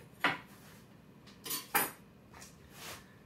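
An old-fashioned pastry cutter works cubed butter into flour for homemade Southern buttermilk biscuits, giving a few separate metallic scrapes and clinks against the mixing bowl, close and fairly soft, with quiet pauses between them.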